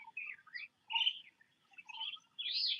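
Birds singing outdoors on a nature walk where many gather around a flowering plant, an oriole among them; several clear, fairly close whistled phrases and chirps come in separate bursts over a quiet background.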